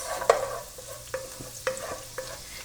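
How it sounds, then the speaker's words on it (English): Garlic frying in hot vegetable oil, a close, soft sizzle broken by repeated scraping clicks from stirring at a steady rhythm, with no talk. "I'm adding my garlic,"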